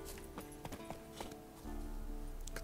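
Horse hooves clip-clop in an irregular run within a video game, faint and steady, mixed with the game's background sound and no speech.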